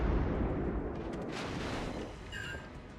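Warship guns firing HE shells in World of Warships Legends, a heavy booming blast that rolls and fades over a few seconds, loud and close, followed by a quieter rumbling tail.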